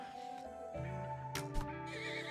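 A horse in the video game Rimworld gives a loud, close neigh, a sharp whinny rising over a background of game music and hoof clatter.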